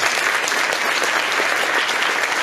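An audience claps in a steady, dense burst of applause to welcome Stuart Hameroff to a lecture on consciousness, loud and close, with no pauses.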